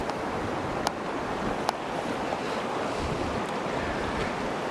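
Water rushing steadily along a river on the Alaska Peninsula, a broad continuous wash mixed with wind buffeting the microphone, with two brief clicks partway through.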